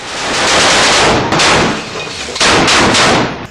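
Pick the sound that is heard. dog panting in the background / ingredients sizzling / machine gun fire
machine gun fire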